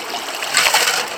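Creek water rushes and splashes steadily at a dug-out hole among rocks, close and fairly loud, with no voices.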